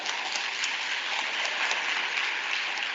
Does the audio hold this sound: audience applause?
yes